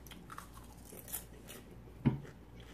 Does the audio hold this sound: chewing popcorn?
yes